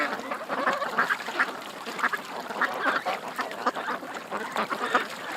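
Ducks quack near the edge of bulrushes as a drone herds them, the calls coming in a dense, overlapping, steady chatter at moderate loudness.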